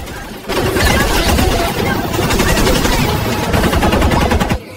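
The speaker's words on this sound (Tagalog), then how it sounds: "Sinubukan naman ni Brandon na barilin ang isa sa mga tumatakas na kalaban, ngunit nagmintis din ito" Rapid machine-gun fire in a film battle between elite snipers, loud sustained bursts of automatic gunfire running almost continuously for several seconds before cutting off abruptly.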